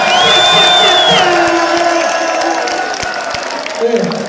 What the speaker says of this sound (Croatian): Ajmo aplauz i jednu buku za sve glave koje su prije pre mene večeras